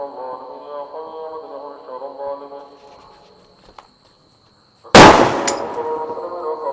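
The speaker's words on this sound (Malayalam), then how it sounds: "കണ്ടോ ഇതാണ് സാധനം, പച്ച കളർ അമിട്ട്." During Diwali, a green aerial firework shell goes off with one sudden, loud bang and a crackling decay after a stretch of people talking and a quiet pause.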